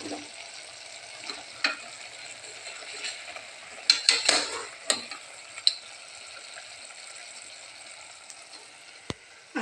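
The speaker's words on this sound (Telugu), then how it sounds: "ఆయిల్ వేసి ఉల్లిగడ్డ వేసి ఉడికిన తర్వాత కొంచెం పసుపు యాడ్ చేసి మటన్ యాడ్ చేసిన" Mutton frying in oil with onion and turmeric for a mutton curry: a quiet, steady sizzle broken by scraping stirs and a cluster of sharp metal clinks from utensils against the pan.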